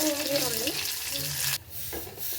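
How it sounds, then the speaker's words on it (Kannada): Loud oil sizzle as spices and curry leaves hit a hot pan for tempering, crackling and spitting continuously, with a brief stir and a dip midway. "ಸಾರಿಗೆ ಒಗ್ಗರಣೆ ಹಾಕ್ಕೊತಾ ಇದ್ದೀನಿ"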